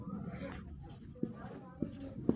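Pen writing on paper while working a class 10 maths solution, quiet close scratching with a few sharp taps of the pen, under soft background hiss.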